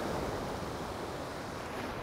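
Sea waves wash over a rocky shoreline of rock structures built to protect the land, making a soft, continuous, distant surf hiss that stays even throughout.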